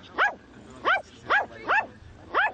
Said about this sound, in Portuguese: O objetivo era latir o mais alto possível.